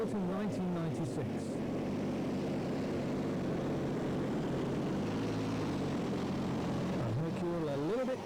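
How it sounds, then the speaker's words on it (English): A diesel pulling tractor fitted with a 1996 Watt-Silla diesel runs at a 1997 tractor pulling event at Windenhof, France, a steady distant engine drone heard under a commentator's voice. "this is the only tractor that I know that uses a Watt-Silla diesel"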